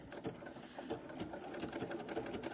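A Bernina sewing machine stitching a blanket stitch, a steady rapid mechanical whirring and clatter of the needle running continuously, close and moderately quiet.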